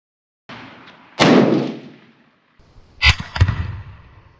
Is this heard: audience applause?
no